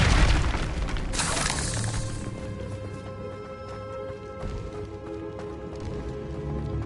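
A Bombarda blast spell in Hogwarts Legacy on PS5 lands as a sharp, loud boom with a shattering crash, then fades into a lingering rumble and scattered debris patter.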